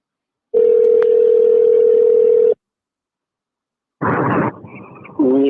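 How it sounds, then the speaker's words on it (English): A phone on a live show gives a steady two-second tone, then after a pause a louder electronic burst and warbling signal follow, with no voices. "I'm gonna let you answer the phone."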